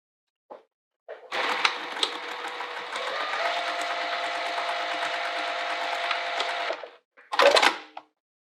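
A sewing machine stitches two fabric wallet pieces together along a top edge, running in one steady whirring burst of about six seconds, bracketed by short clicks and a brief final whir, close and alone.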